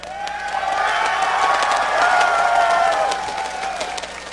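A large home crowd at a Season 2 esports quarterfinal between Azubu and Team Solo Mid claps and cheers loudly for several seconds, a dense wash of applause with rising shouts that eases off toward the end.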